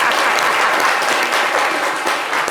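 Studio audience on a French-language talk show clapping loudly and steadily, a thick continuous wash of applause with no voices over it.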